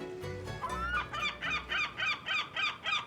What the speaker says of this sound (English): We have some seagulls that come over here.